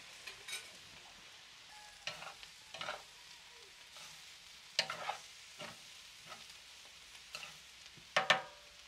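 Potatoes stirred while frying in hot oil in a pan, with a steady faint sizzle broken by irregular scraping strokes of the utensil, close and alone without talk.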